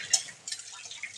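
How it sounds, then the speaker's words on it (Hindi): Running water at a kitchen sink as dishes are washed after lunch at home, a quiet steady trickle with faint drips and small splashes close by. "अब मम्मी ने बर्तन धो रही है"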